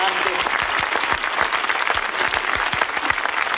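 Loud, dense applause from a theatre audience saluting the cast, choir, dancers and crew of a stage musical, steady clapping throughout with some crowd noise mixed in.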